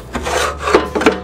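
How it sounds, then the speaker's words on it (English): Grit and debris scraped out of the inside of a BBQ grill, a few short, close, raspy scrapes in quick succession. "you want to scrape all this stuff out"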